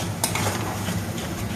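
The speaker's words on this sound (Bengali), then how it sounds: "এবারে মশলাটাকে ভালোভাবে মিক্স করব" A spoon stirs and scrapes masala spice paste around a pan for matar paneer, a steady close mixing sound with soft utensil clinks over a low sizzle of oil.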